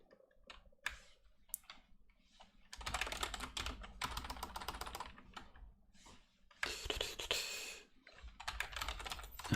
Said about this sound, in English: let me type thing on screen